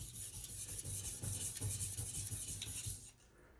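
A compound-beveled knife scrapes across a sharpening stone with close, gritty rubbing strokes in a fairly even rhythm, fading out at the end.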